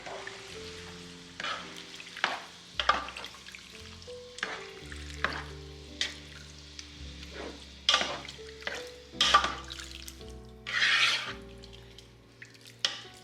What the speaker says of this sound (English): I'm gonna stir that up and let that cook on a low temperature.